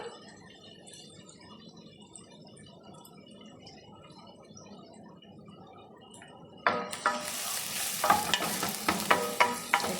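Whole spices such as cinnamon bark and cardamom frying in a pan for fish saloona curry: a quiet low simmer gives way to a loud, crackling sizzle with stirring scrapes over the last few seconds.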